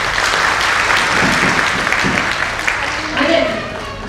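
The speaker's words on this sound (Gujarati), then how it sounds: "એમને તાળીઓથી થોડું વધાવી દઈએ" An audience at a women's association 50th anniversary celebration in Vadodara claps loudly and steadily, with the applause dense and close throughout.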